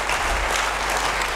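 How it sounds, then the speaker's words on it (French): A church congregation breaks into loud, sustained applause during a pastor's sermon: a dense, continuous wash of clapping hands that holds at a steady, full level from start to finish. "Est-ce que nous pouvons acclamer très fort?"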